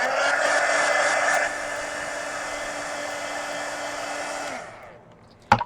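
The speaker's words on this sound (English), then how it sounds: "now let me just hit that with the heat gun real quick" A heat gun blows steadily on a coloring book page, a loud broadband whoosh with a low hum that holds for about four and a half seconds, then cuts off and winds down, followed by a brief sharp knock.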